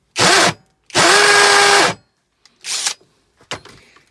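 Aldi 40v combi drill in hammer action mode, revving in two strong bursts, a short one then a longer run of about a second, followed by two briefer rough spurts as the motor is triggered and released.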